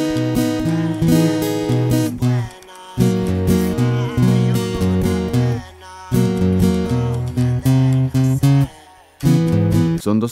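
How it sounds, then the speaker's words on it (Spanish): A guitar plays the strumming pattern for a song, with loud, close bass notes and chord strums in a repeating rhythmic cycle broken by brief pauses; no one speaks. "El rasgueo que vas a utilizar suena de la siguiente manera."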